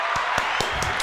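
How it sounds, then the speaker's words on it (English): A short burst of audience applause, dense overlapping claps from a crowd at a podcast interview, steady and close for about a second. "Round of applause."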